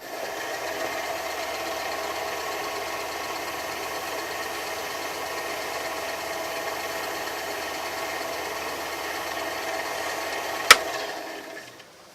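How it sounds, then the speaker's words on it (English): Wood lathe turning slowly while finish is applied to a tablet stylus pen blank, giving a steady, even mechanical hum with a single sharp click near the end before it winds down. "I have to turn my lathe down slow as it goes"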